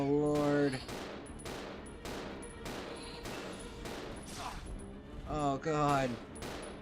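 Gunfire in the video game Resident Evil 0 HD, a rapid run of sharp shots with ringing decays, some echoing bursts between louder cracks, while a person briefly exclaims.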